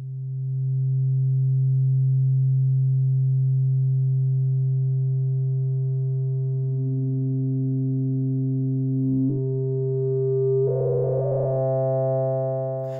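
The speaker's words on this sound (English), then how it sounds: "You hear that the resonance of this filter will try to lock on to the incoming frequency or some harmonic of it." Rossum Evolution Eurorack filter pushed into self-oscillating resonance, a loud steady pure tone that holds while a higher resonant pitch creeps in and locks onto harmonics, ending in a brief burst of buzzy overtones.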